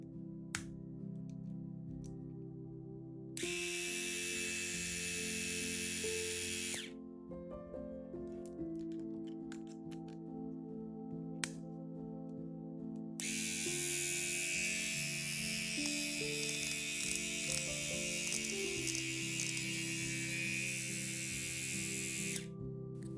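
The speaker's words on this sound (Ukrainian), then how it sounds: "Тепер приєднаю тример та вімкну, аби ви почули звук." A waterproof wet-and-dry rotary electric shaver with its trimmer attachment fitted runs in two loud, steady buzzing stretches, separated by quieter pauses with faint handling clicks.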